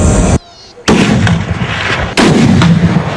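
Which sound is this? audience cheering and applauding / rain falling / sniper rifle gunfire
sniper rifle gunfire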